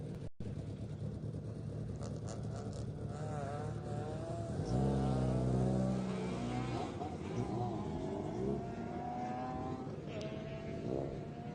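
A naturally aspirated Honda Civic accelerates at a hillclimb, its engine note rising through the gears in sweeping revving tones, loud and close at its peak, with a voice talking over it.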